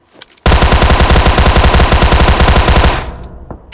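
A light machine gun in PUBG Mobile fires one loud, rapid, evenly spaced burst that runs for about two and a half seconds and then cuts off, with a short tail of quieter noise afterward.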